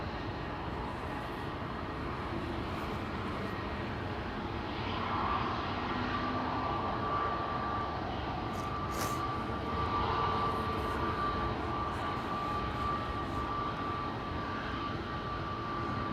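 An Airbus A321neo airliner approaching at Amsterdam Schiphol Airport gives a steady, broad engine roar that holds at an even level throughout, with a faint whine running underneath and no voices.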